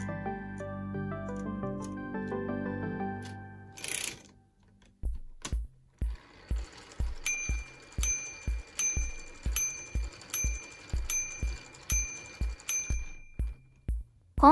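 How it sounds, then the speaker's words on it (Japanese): A minute repeater watch's chiming mechanism strikes eight hour chimes, a steady series of sharp, bright metallic gong tones at even intervals, preceded by softer whirring and ticking of the striking works. "今度は8時の鐘を鳴らしました。"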